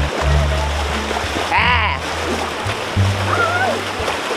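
Flood water splashing and sloshing along a flooded street on the way to a market, with a steady low engine-like rumble underneath and bursts of louder splashing near the listener, while voices talk at times.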